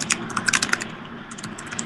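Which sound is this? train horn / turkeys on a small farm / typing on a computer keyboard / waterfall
typing on a computer keyboard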